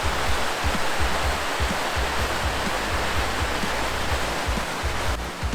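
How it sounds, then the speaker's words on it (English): A creek running down beside the West Rim Loop Trail in Tennessee, its water rushing and splashing in a loud, steady, close roar with no voices. "Gorgeous creek running down."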